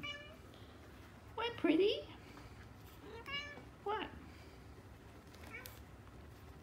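A small mother cat meows several times, short yowls spaced a second or two apart, close by, while someone talks softly to her in between.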